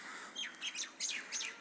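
Small birds chirp and tweet in a few quick bursts outdoors on a rooftop during the rainy season, fairly close and clear over a soft steady background hiss.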